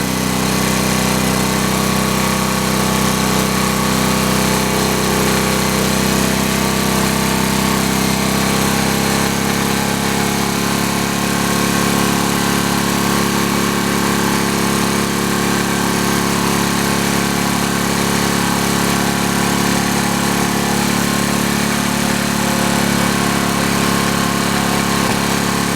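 A P.E. 77 D small engine fitted with a Nelson muffler runs steadily close by, a continuous droning hum with a slight shift in tone partway through and no talking over it.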